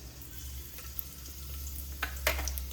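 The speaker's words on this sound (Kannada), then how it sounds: "ಇವಾಗ ಕರ್ಬೇನ್ ಸೊಪ್ಪು ಹಾಕ್ತಿದ್ದೀನಿ ಒಗ್ಗರಣೆ ಚತ್ರ ಚಟ್ರಪಟ" Curry leaves crackle in hot oil for a tempering, a steady close sizzle with a few sharper pops near the end, heard alone over a low background hum.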